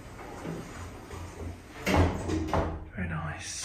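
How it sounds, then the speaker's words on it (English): Sliding doors of an Otis lift at Cavendish House in Cheltenham rumble shut with a soft mechanical whoosh and a muffled thud, and a voice is audible around them. "Doors closing."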